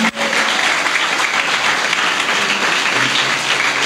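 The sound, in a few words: congregation clapping loudly in church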